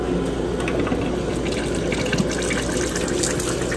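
A cooking oil filtration machine pumps hot 350-degree oil to rinse debris from a fryer, producing a continuous rushing, gushing flow of liquid without pause.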